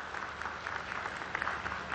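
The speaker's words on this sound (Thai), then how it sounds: "ขอเสียงปรบมือดังๆเพื่อเป็นกำลังใจให้แก่เพชร CP Freshmart" Applause from a crowd greeting a boxer at a Thai boxing match, a steady burst of clapping close by with no talk over it.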